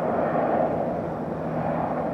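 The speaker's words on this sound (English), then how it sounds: "Helicopter." A helicopter flying overhead outdoors makes a steady, fairly loud droning rumble that holds evenly throughout, with no voices.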